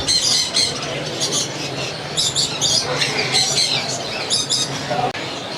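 Shrill parrot squawks and chirps repeating over the busy background of a bird market in Saddar, Karachi, with some voices murmuring nearby.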